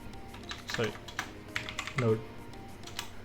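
Typing on a computer keyboard while setting up Blender add-on preferences: a few short bursts of clicking keystrokes, close and crisp, in a quiet room.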